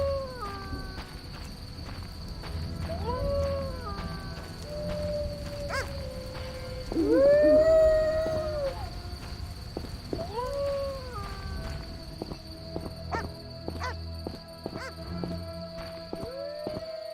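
Dog howling in The Witcher, several drawn-out rising and falling wails spread across the scene, the loudest near the middle, set over a steady game ambience with a faint high tone.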